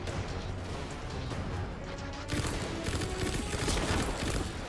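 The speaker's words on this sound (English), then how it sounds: "so I'm gonna pistol these guys" Pistol fire in Destiny 2 crackles through a dense, noisy firefight, the bursts growing louder and busier partway through amid explosions and clattering impacts.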